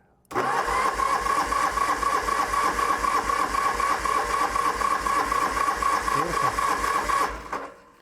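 A Norton motorcycle engine is cranked over about a dozen times during a compression test on the right cylinder, giving a steady, rapid mechanical whirring and chugging that runs loud and continuous for roughly seven seconds before stopping.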